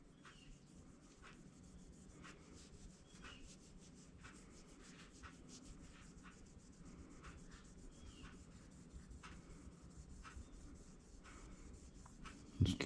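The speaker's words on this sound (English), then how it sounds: "Just keep rubbing and it'll penetrate that steel." Cotton swab rubbing a protective coating onto a steel bayonet blade, a soft steady scrubbing with faint repeated strokes, close and quiet, ending in a louder bump.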